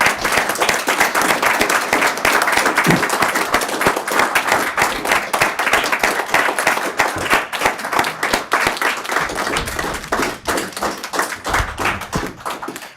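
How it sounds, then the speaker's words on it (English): A sustained round of applause fills a legislative board meeting room, many hands clapping densely and loudly for about thirteen seconds before thinning out toward the end. "could you please rise and get a round of applause from the board,"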